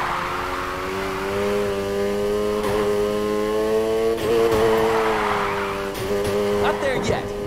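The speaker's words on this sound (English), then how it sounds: "Keep that drift going." Car drifting in Need for Speed Heat, engine note wavering and rising between shifts as tires squeal, loud and continuous with brief gear-change breaks.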